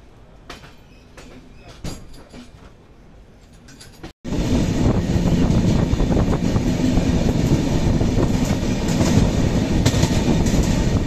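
Duronto Express train running at speed on rails near the Tamil Nadu–Andhra Pradesh border, heard from inside: a quieter stretch for four seconds, then a sudden loud, steady rush of wheel and rail noise with faint clickety-clack that persists to the end.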